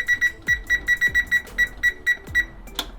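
A kitchen timer being set while chocolate croissants bake gives a quick run of short, bright electronic beeps in an uneven rhythm, close and clear, with a faint clatter between them.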